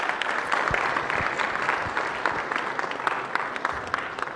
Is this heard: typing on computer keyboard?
no